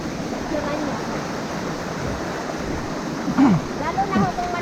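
Rushing water pours steadily at Marambibit Falls, a broad, constant roar close by, with a few brief voices near the end.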